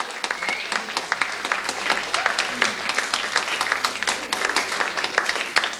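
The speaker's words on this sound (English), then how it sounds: "Thank you very much indeed, everybody who clapped" Audience applause after a poetry reading by John Hegley: dense, steady clapping from a crowd of listeners, close and lively, continuing for several seconds without any talk.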